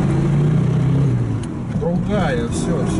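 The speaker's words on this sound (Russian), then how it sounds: "Дергается машина." A car engine running on an LPG gas conversion while jerking gives a low, steady idle rumble close by, with people talking over it.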